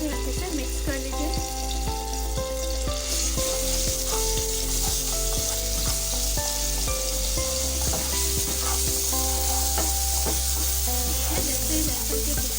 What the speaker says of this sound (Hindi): सबसे पहले जो है मैं इसके अंदर डालूँगी थोड़ा सा लहसुन का पेस्ट